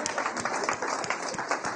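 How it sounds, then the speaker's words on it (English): An audience gives a dense round of applause for a group of founders and their supporters, a steady wash of many hands clapping close by with no pauses across the short stretch. "Y'all deserve a huge round of applause."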